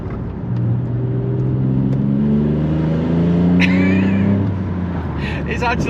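A Volkswagen Up GTI with a 1-litre engine and dual-exit straight-pipe exhaust drives along, its steady droning engine note rising in pitch as it accelerates, close and loud, with a brief higher whine partway through.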